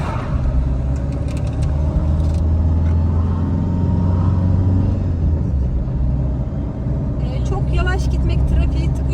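A car engine strains loudly in low gear during a driving lesson on a test course, holding a steady droning rumble while a voice talks over it.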